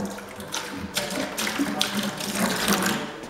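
Water poured into concrete primer concentrate for a 50-50 mix, a steady close splashing trickle with brief louder gushes throughout.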